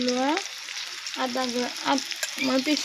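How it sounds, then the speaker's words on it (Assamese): Onion, green chilies and ginger fry in hot oil in a pan for matimah dal, with a loud, steady sizzle and the occasional scrape of stirring, close up and without talk. "লোৱা আদাখিনি ধুনীয়াকৈ ভাজি ল'ব ৰঙচুৱাকৈ"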